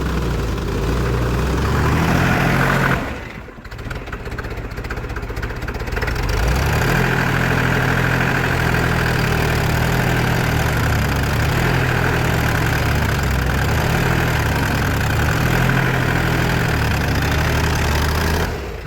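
A tractor engine idles loud and close with a steady low chugging rumble, briefly dipping after a few seconds before settling back into an even, continuous throb.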